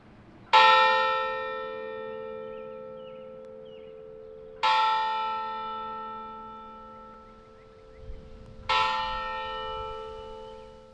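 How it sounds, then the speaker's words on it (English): A large church bell rung in honor of the Pope sounds three loud, resonant strikes, each ringing out and slowly decaying before the next, with no voices present. "Here's how some of those bells sounded."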